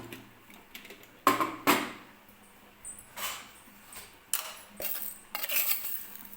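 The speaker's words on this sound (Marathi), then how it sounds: "थोडीशी हळद टाकायची आहे आता पिठामध्ये" A small spoon clinks and scrapes against a bowl of dhokla batter while turmeric goes in, giving a series of irregular, close metallic taps and knocks, some sharp, with quiet gaps between them and no voices.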